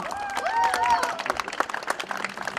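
Spectators at a youth football tournament award ceremony applaud, scattered claps growing denser over voices and cheering, with a whistle-like tone early on, fairly faint and outdoors.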